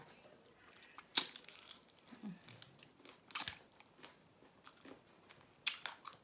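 Spicy papaya salad with chicken feet being eaten up close, with scattered crunchy bites and soft chewing between quiet pauses.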